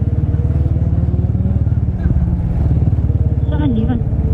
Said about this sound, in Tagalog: Motor yan parang CX400 ah.